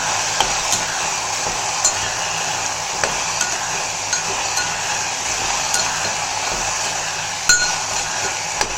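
Asafoetida and turmeric powder being sautéed in a pan for a brinjal and okra curry, with soft continuous frying and a spoon stirring and clinking against the pan at irregular intervals.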